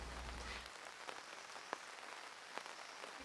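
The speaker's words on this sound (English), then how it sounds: "It's really raining here today." Rain falls on a dark, dreary day as a faint, steady hiss, with a few sharper drop taps standing out now and then.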